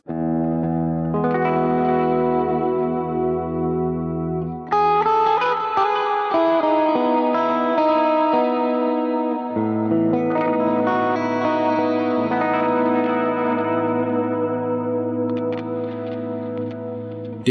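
Ernie Ball Music Man JP6 electric guitar playing effect-laden phrases with echo, chorus and reverb, bright sustained notes and shifting chords, moderately loud with no talking.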